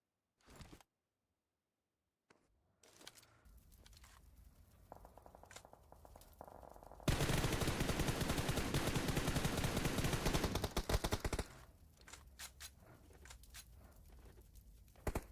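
Gunfire during a video game tournament match: after near silence, scattered shots and clicks build into a loud, sustained burst of rapid automatic fire, then fade back to sparse pops.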